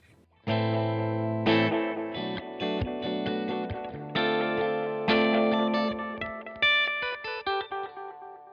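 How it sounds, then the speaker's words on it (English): An electric guitar played through an eighth-note delay effect from the Arturia FX Collection, with distorted sustained chords and notes whose repeats echo and trail off, ending in a rhythmic series of fading echoes. "Here it is with an eighth note delay."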